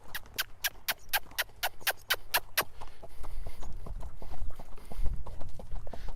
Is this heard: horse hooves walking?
yes